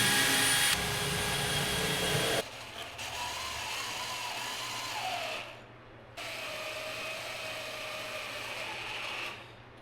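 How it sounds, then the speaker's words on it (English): A power drill bores pilot holes for threaded inserts into a wooden coffee table top, a steady whirring drone with short pauses between holes, close and fairly loud. "I'm gonna drill 10 pilot holes for 10 threaded inserts"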